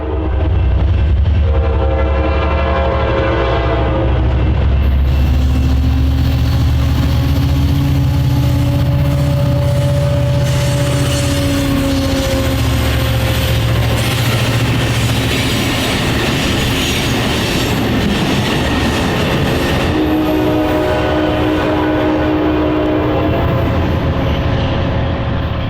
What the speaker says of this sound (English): The Capitals are considered long-distance commuter trains and have enjoyed surging ridership since their inception.